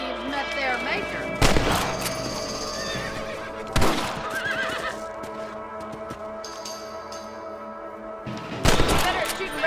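Sharp, loud gunshots ring out in three separate cracks, spaced a few seconds apart, while shooting outlaws in the video game Red Dead Redemption, with a horse whinnying and hooves clopping between the shots.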